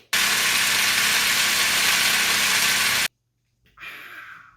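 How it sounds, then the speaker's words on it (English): A loud, steady sizzling hiss of steak cooking fills about three seconds, then cuts off abruptly, leaving quiet before fainter kitchen noise returns. "if you can hear some sounds in the background, that's my girlfriend cooking"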